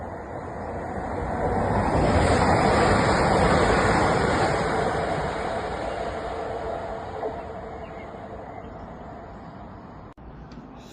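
A Class 50 diesel locomotive arriving at Low Moor station, a loud rumbling approach that swells to a peak and then slowly fades as it passes.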